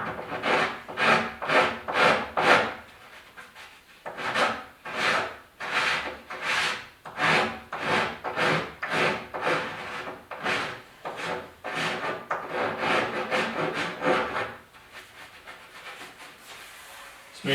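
Steady back-and-forth rasping of a file along the edge of a bathroom countertop, in bursts of quick rhythmic strokes with brief pauses, close and fairly loud with no talking.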